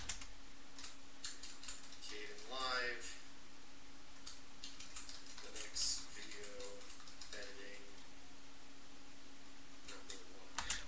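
Keyboard keys tap in short irregular bursts at a computer, light and fairly close, with scattered clicks over a steady low background hum.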